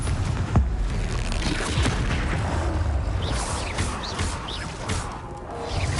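The Confringo blasting spell in Hogwarts Legacy erupts in heavy booming explosions and crashing impacts, a dense, loud barrage of blasts with whooshing magic effects throughout.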